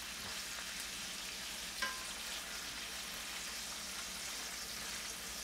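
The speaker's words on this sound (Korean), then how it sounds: "파기름이 나오면서 예, 간장도 같이 볶아지죠" Kimchi fried rice stir-frying in scallion oil with soy sauce gives a steady, close hiss and sizzle throughout, broken once by a brief clink of a utensil against the pan.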